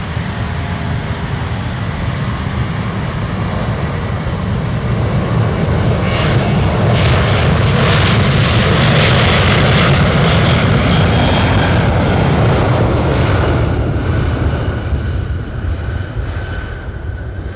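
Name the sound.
loud Alaska Air Cargo plane landing on runway 15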